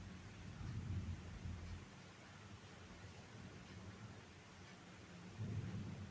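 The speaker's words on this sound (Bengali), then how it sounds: "বৃষ্টি হচ্ছে তো" Rain falls with thunder, very faint and distant overall. A soft steady hiss of rain is broken by low rumbles near the start and again at the end.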